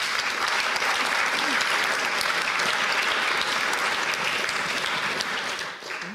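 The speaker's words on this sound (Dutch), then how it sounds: "Een hartelijk applaus voor Theodor Holman." An audience at a film discussion event gives warm applause to a guest, many hands clapping loudly and continuously in a broad, dense roar that tapers slightly at the end.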